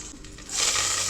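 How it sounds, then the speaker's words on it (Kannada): Ginger garlic paste fries in oil in a pan, a steady close sizzle that swells louder halfway through and holds as a continuous hiss, with no talk over it. "ಶುಂಠಿ ಬೆಳ್ಳುಳ್ಳಿ ಪೇಸ್ಟ್ ಎಲ್ಲ ಹಾಕ್ಕೊಂಡು ಫ್ರೈ ಮಾಡ್ಕೊತಾ ಇದ್ದೀನಿ"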